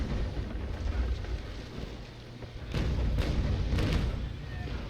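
Cannons on a basic cutter fire a broadside at dusk in the naval sailing game Naval Action, several deep booms arriving close together over a low rumble of sea and wind, loud and near.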